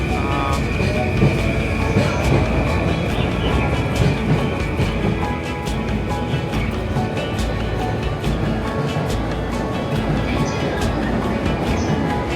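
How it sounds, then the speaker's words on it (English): A train rolls into a busy station platform with a continuous low rumble, wheel clatter and a faint high squeal, while travellers talk nearby over the noise. "That's our train."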